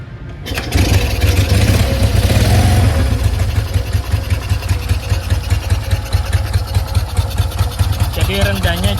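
A Honda CB 200 motorcycle engine starts after a brief pause and settles into a loud, steady, even-running idle heard up close.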